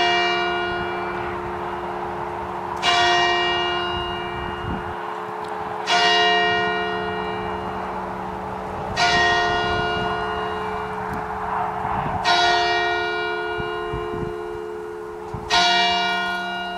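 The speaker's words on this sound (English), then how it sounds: "Nice bit of chime as well, eh?" Church bell in a marble church tower ringing five slow, evenly spaced strikes, each loud hit ringing out with a long humming decay before the next, no talking.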